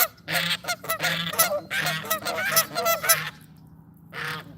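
Pet geese honk close by in a rapid, overlapping chorus of nasal calls, a burst of several seconds, then a brief pause before one more honk.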